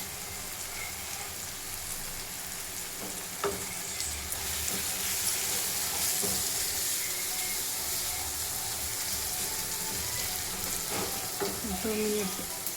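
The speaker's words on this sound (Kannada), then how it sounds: "ಟೊಮೊಟೊ ಎಲ್ಲ ಸ್ವಲ್ಪ ಬಾಯ್ಲಾಗಲಿ" A constant sizzle and bubbling hiss of tomatoes and bitter gourd cooking in a pan, close and even, with a few light clinks of a utensil.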